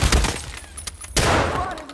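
In Escape From Tarkov, a gun empties its magazine in a quick string of loud, close shots with sharp cracks and heavy low thumps, followed by a brief continuing noisy tail.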